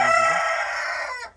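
A dwarf Cochin rooster crowing once, a loud close full crow with a sustained harmonic call that cuts off sharply at the end, heard alone.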